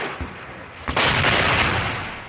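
Bombing and artillery fire in Syria: a dull thud, then a sharp heavy blast followed by a loud, rolling rumble that slowly fades.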